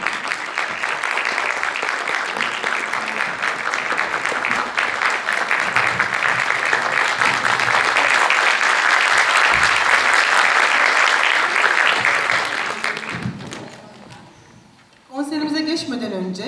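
Concert audience applauding as a choir conductor is invited onstage, sustained dense clapping from the hall that fades near the end, followed by a voice speaking over a microphone.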